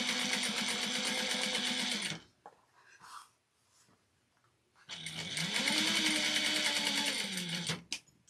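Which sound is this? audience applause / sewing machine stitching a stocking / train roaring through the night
sewing machine stitching a stocking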